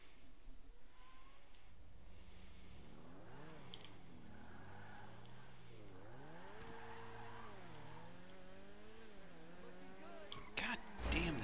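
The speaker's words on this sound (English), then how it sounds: "God damn this traffic in this game" Several video-game cars, with engine tones rising and falling and tires squealing, pass close by one after another in dense in-game traffic. A faint voice briefly murmurs underneath, and a harder burst comes near the end.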